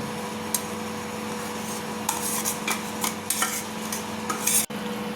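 Onion-coconut paste being stirred into a pot of chickpea curry, giving scattered scraping and clinking strokes of a spoon against the pan over a steady low hum, with one brief sharp knock near the end.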